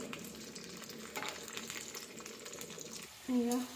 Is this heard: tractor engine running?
no